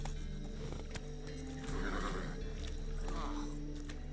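Roach, Geralt's horse in The Witcher 3 next-gen edition, whinnies amid steady hoofbeats and game ambience, with voices speaking over the scene.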